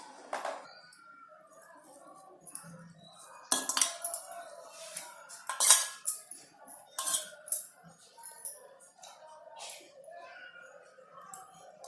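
Spice ingredients, including chili masala, lemon powder and a spoonful of oil, being mixed with a spoon for soybean appe batter, giving intermittent clinks and scrapes of the spoon against the bowl, close and moderately loud, with no talking.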